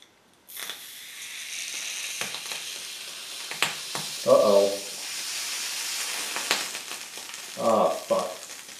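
Molten Babbitt metal poured for a rod bearing on a Cletrac crawler tractor sizzles and hisses steadily as moisture flashes to steam, with scraping clicks and short bursts of crackling.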